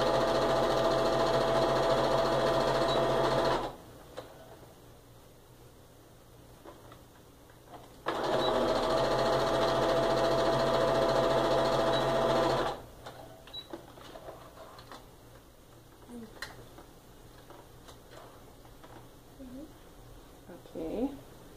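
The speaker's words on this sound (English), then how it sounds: "we're just going to sew them together." A sewing machine joins black and white four-inch quilt fabric strips, whirring in two steady bursts of a few seconds each, separated and followed by quieter stretches of faint handling noise.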